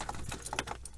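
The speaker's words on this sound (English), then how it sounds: "Oh, we need some keys." A bunch of keys jangles close by inside a Ram 1500 pickup during an overhead console upgrade, a brief, bright metallic rattle lasting about a second.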